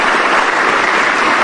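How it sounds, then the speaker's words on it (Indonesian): A studio audience breaks into loud, dense applause, a continuous wash of clapping with no voices over it. "Kita kasih tepuk tangan."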